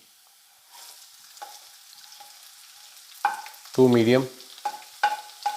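Onion tipped into a pan of garlic frying until golden, giving a soft sizzle with a few stirring clatters, one louder burst of hiss midway and short scraping knocks toward the end.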